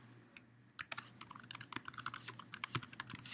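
Quick, faint clicking of typing on a computer keyboard, keys tapped in an irregular run after a brief quiet start, with no talking.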